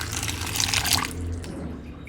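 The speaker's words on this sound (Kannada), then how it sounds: "ಇವಾಗ ಇದಕ್ಕೆ ಸ್ವಲ್ಪ ನೀರನ್ನ ಸೇರಿಸ್ಕೊಳ್ಳೋಣ." Water is poured into a pot of roasted flattened rice powder, a steady splashing pour with no talk.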